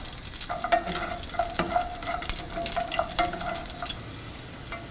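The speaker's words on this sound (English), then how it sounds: "Next, we are going to add the raisins and roast." Cashews and raisins roasting in ghee or butter in a pan, a close, steady sizzle with repeated scraping and clinking stirs throughout, easing slightly toward the end; no voices.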